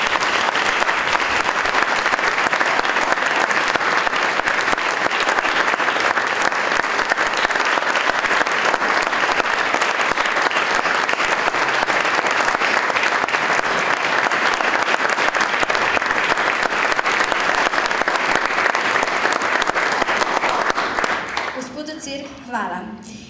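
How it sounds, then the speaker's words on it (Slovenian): Sustained, dense applause from an audience at a poetry evening in Celje, held at full strength for about twenty seconds before quickly fading out. "lepo prosim še en poseben aplavz za našo drago Ano"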